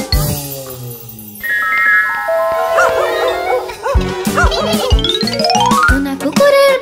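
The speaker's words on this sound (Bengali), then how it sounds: "ঘেউ ঘেউ শব্দ করে কুকুরকে তাড়া করছিল।" A cartoon dog barks in a children's animated rhyme: several short punchy barks toward the end, set against loud, bright jingly music with rising and falling tones.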